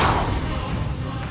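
A Confringo blasting spell bursts in the Hogwarts Legacy video game, with a loud, close explosive boom at the onset that fades into a short rumbling tail.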